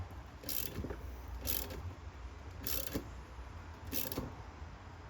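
A brake line flaring tool is tightened down on a metal brake or transmission line, giving four evenly spaced short ratcheting, clicking bursts over a faint steady background hum, with no talking.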